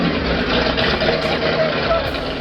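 Someone's Rocket 2 trike with its 1,200 horsepower turbocharged engine running, a loud, steady, close roar with a voice speaking over it.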